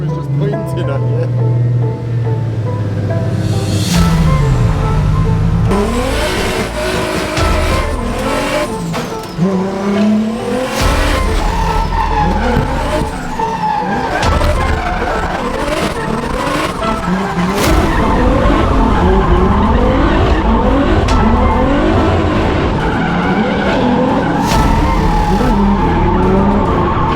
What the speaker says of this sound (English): It's just a drift car.